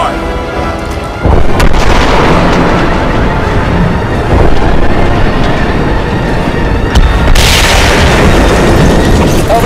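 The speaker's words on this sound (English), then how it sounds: "Target locked. Missile away. Confirmed missile hit." Missile explosion in the Crysis 2 PC campaign: a loud boom lands early and rolls into a dense, sustained roar of blast and battlefield noise, with a second burst near the end and radio-style voices talking over it.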